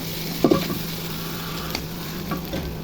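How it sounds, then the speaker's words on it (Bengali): Fried broiler chicken pieces drop into a pan of sizzling turmeric, chili, coriander and garlic, making a brief thump and scrape before a steady close frying hiss continues alone. "মশলা ভাজা ভাজা হয়ে গেছে এখন মাংসগুলো ঢেলে দিব"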